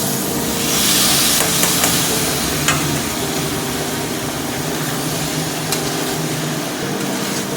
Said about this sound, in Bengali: ভালোভাবে কষিয়ে নেব মটরের সঙ্গে মশলাটা যাতে মিশে যায়